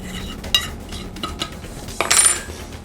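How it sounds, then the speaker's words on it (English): A utensil mixing seasoned salt into salmon pieces in a dish: close, scraping and clinking strokes in an irregular rhythm, with a firmer scrape near the end, and no talk. "We'll add a little bit of seasoned salt to that. Mix that around."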